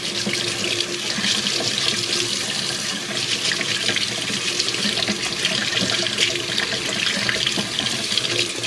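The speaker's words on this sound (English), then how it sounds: "It's kind of hard for us to chat with one another with this water going" Tap water pours steadily into a kitchen sink during dishwashing, a loud, continuous close-up rush with splashing and no pauses.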